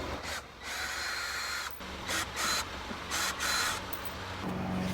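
Bolts being removed from the bumper of a VW GTI MK7, heard as repeated close bursts of a whirring tool with short pauses between them over steady background noise.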